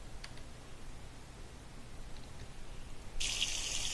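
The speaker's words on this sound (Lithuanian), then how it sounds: "Ir pilam benzą" Petrol pours from a jerry can into a yellow car's fuel tank on a desert trip: a steady, fairly faint liquid hiss starts late and runs on to the end over quiet background noise.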